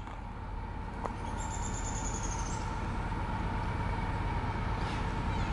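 A CSX autorack freight train rumbles steadily past at a distance, with a constant low roar and a faint high squeal partway through.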